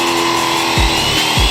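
A 20,000-pound semi truck roars down a tractor pull track, its loud, continuous engine drone punctuated by two sharp low-frequency bursts as it strains under load, with flames coming out of the stack.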